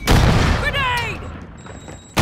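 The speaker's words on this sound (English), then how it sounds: "Grenade!" A grenade detonates in a first-person shooter video game with a loud, sharp boom right at the start, followed by brief warbling tones and another abrupt burst at the very end.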